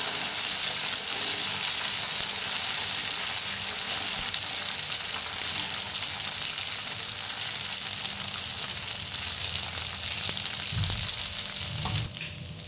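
Fasting dosa batter hisses in a loud, steady sizzle as it is spread by hand across a hot pan sprinkled with water. The sound stays even and close throughout, with faint clicks near the end and no talking.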